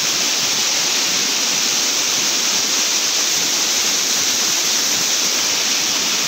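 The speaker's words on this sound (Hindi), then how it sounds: "गंगा जी उफान पे है।" The Ganges in spate on the Gangotri–Uttarkashi road after a night of heavy rain, a strong, steady roar of rushing whitewater that stays loud and unbroken throughout, with no voices.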